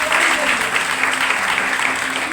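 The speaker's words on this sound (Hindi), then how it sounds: "जोरदार तालियां।" A church congregation breaks into brisk, dense applause, loud and sustained across the whole couple of seconds, with no voices over it.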